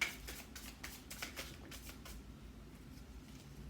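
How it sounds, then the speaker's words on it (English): Soft, rapid riffling of tarot cards being shuffled by hand, a quick flurry of papery flicks that fades toward quiet. "we don't just go ahead and shuffle them again"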